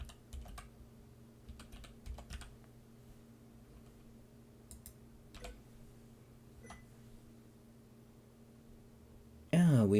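Computer keyboard typing during a live coding session, steady clusters of light clicky keystrokes close to the microphone over a low electrical hum, ending in a sudden louder burst.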